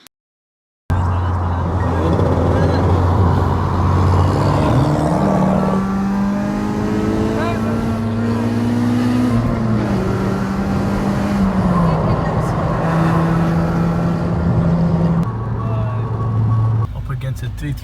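Honda Civic Type R accelerating hard while street racing a BMW 335d, engine pitch climbing through the gears with clear shift drops, loud interior roar throughout.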